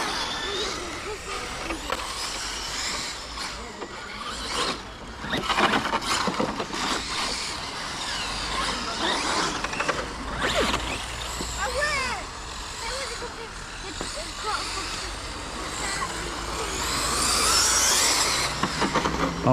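Scooter fitted with Corraly Sprint XLR wheels rolling over pavement, a continuous gritty rumble with rattling bursts, fairly loud and close, while people talk over it.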